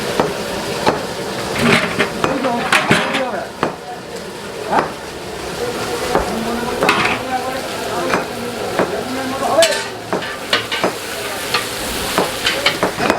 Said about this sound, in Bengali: এদিকে দেখো বিভিন্ন রকম ভাজাভুজি করা হচ্ছে